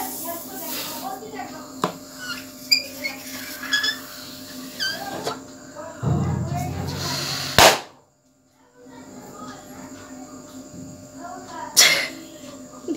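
A balloon bursts with a single sharp pop from below while being handled, followed by near silence, with ambient household noise and brief chatter around it.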